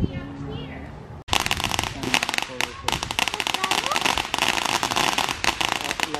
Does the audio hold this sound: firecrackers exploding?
yes